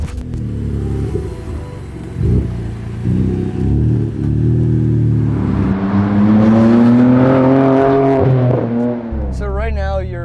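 A BMW E30 M3 pulls away, its engine rumbling low and then rising in a loud, climbing rev as it accelerates, with a person talking over the start.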